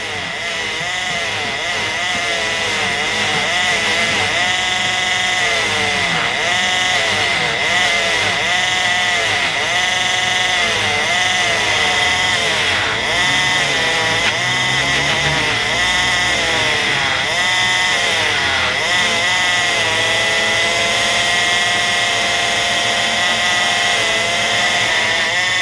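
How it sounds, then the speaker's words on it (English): A jeweller's polishing machine shines a jewelry piece with a loud, steady motor whine and buffing hiss that runs unbroken close by, its pitch wavering slightly as the piece is pressed against the wheel. "now I'm gonna shine it with the machine."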